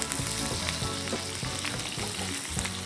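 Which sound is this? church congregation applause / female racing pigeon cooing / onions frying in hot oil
onions frying in hot oil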